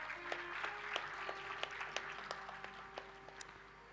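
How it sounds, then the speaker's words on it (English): Applause from the audience at an international Ayurveda conference as a guest is honoured: scattered, distinct claps ring out against a quiet hall with a steady background hum. "A big round of applause."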